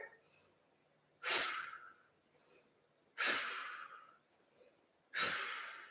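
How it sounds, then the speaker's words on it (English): Three forceful, rapid exhalations through the nose, evenly spaced, each a sharp breathy rush with quiet inhales between. "In that speed, it's a more active breathing."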